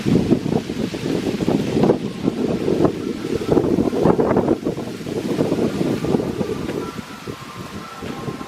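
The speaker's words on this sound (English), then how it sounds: "And a wee bit windy now," Strong wind buffets the microphone outdoors on a disused railway trackbed near Oldham, a continuous low rumbling roar with gusty swells throughout.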